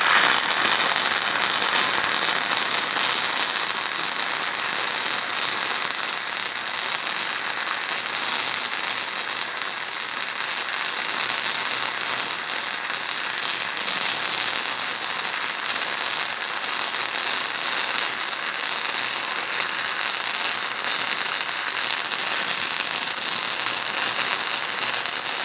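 A Titanium Easy Flux 125 flux core welder burns holes at a higher setting, with a continuous loud crackling and sputtering arc that runs without a break for the whole stretch, and no voices.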